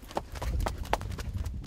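Hooves of a Mangalarga Marchador horse clip-clop at a steady walking rhythm on a farm, several distinct footfalls at moderate distance over low background rumble.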